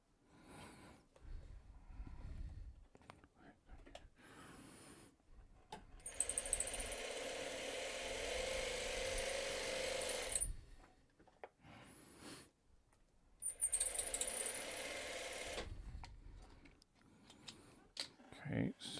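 Domestic sewing machine stitching in two sustained runs of a few seconds each, a close steady whirring buzz separated by quiet pauses and small handling clicks.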